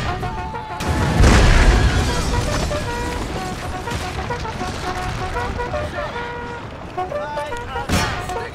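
Booming cannon fire from an Empire: Total War siege battle at Lahore, with a heavy blast near the start and another near the end, set over a dense, continuous battle din with tonal layers.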